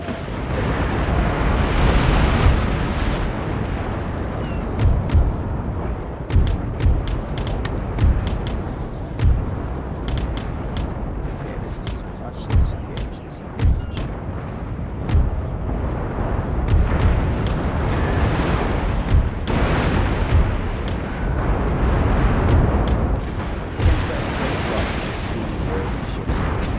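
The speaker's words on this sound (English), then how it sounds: "But if this ship keeps getting hit by rockets on both sides, it's gonna." Rockets and cannon fire striking ships in a naval battle in Empire Total War, a dense, continuous roar of booming explosions and crackling impacts, loud throughout, with a voice speaking over it.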